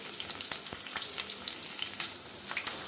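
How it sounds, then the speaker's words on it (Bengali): Onion and chili frying in hot oil, a close, continuous crackling sizzle with scattered pops and stirring clicks, no talk. "এখন পেঁয়াজ আর মরিচ দিয়ে দিব।"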